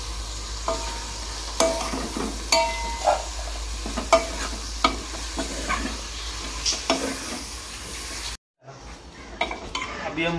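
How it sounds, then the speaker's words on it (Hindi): Pumpkin pieces fry with meat in a cooking pot, a loud steady sizzle broken by repeated scraping stirs and clinks of a spoon against metal, cutting out briefly near the end before the sizzle resumes. "अभी हम कद्दू को भूनेंगे थोड़ी देर"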